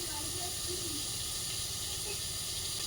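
Pangas fish fries in a pan, giving a steady, dense hiss of sizzling oil throughout, with a faint voice underneath.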